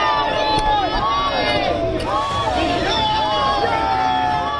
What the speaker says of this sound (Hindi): जहां पर पीएम मोदी के स्वागत के लिए भीड़ लगी हुई थी